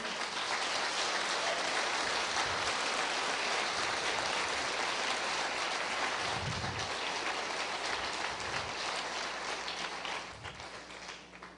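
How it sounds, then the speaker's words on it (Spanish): A congregation at a church service claps for the Lord in a dense, sustained wash of applause that thins out near the end. "Dale un aplauso al Señor."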